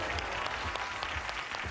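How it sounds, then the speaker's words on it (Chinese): Studio audience applause on a televised health talk show, a dense, steady burst of clapping from a crowd, filling the whole short stretch at an even level. "掌声欢迎我们场上的观众和嘉宾团的四位成员"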